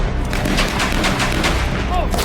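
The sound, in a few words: gunfire in staged military firefight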